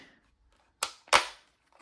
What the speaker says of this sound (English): Let's try the AK suppressor.